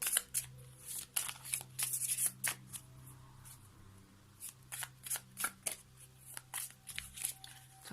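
Oracle cards being shuffled for a fairy-themed daily card reading, giving repeated soft riffling bursts and flicks at an irregular rhythm, close and fairly quiet, with no talk.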